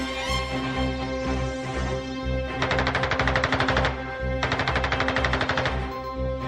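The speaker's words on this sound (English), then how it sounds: "E-16 was armed with 2 Shkas machine guns." Two bursts of rapid machine-gun fire from a pair of ShKAS guns on an I-16 fighter, each lasting over a second at a very high rate, sounding loud and close over steady engine drone.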